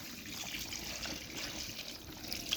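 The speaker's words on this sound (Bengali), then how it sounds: "এবার একটুখানি জল দিয়ে আমি ঝোল" Water poured into a pan of cooking greens being made into a thin gravy, a soft steady trickle and splash heard close up and fairly quiet.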